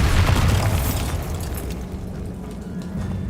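Bombarda spell explosion in the video game Hogwarts Legacy: a loud, dense low boom at the start that rumbles on and fades slowly into a sustained low roar.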